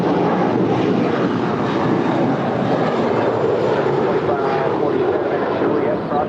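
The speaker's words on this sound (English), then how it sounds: "And that is JetBlue 2124 heading back where I came from today to JFK." A JetBlue Airbus A321 jet at LAX roars steadily and loud as a broad, continuous engine rumble that holds at the same level with no break, with no voices over it.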